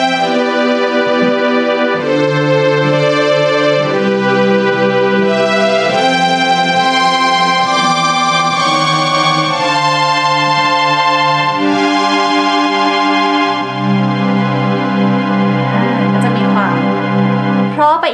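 Sustained string ensemble voice on a NUX WK-400 88-key digital piano playing a slow sequence of held chords, loud and steady throughout with smooth changes between chords and no talk.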